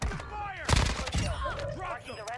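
Gunfire in the Warzone video game crackles in quick bursts of shots, mixed with radio-style voices talking over the battle noise.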